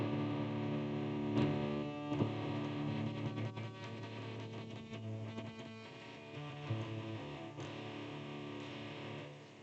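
Distorted electric guitar riff, played alone with no talk, dense and sustained with a few sharp attacks standing out across the phrase.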